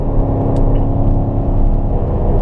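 A car on a racetrack pulls out of a corner under power, its engine a loud, close, sustained roar with a steady whir layered over it and no speech.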